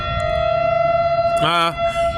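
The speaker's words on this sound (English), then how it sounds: "Maybe I'll wait until that siren is done so that you brothers and sisters can hear me clearly." An outdoor civil defense siren wails, a steady tone that rises and swells around the middle and then fades, with faint background noise and no talk over it.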